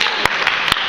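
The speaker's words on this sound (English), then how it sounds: "You're supposed to applaud." Audience applause and cheering fill a comedy stand-up show, a dense, steady wash of clapping with a few sharper bursts, lasting under a second.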